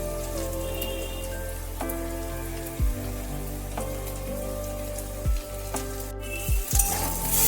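Bitter gourd pieces hitting a hot wok and sizzling, a steady crackling hiss like rain with a few sharp clatters and scrapes standing out above it.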